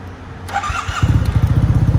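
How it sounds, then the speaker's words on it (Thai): A 2016 Yamaha TMAX 530 maxi-scooter's starter whirs briefly, then the engine catches and settles into a steady, pulsing idle close by. "เดี๋ยวสตาร์ทให้ฟังเสียงเครื่องยนต์กันดู"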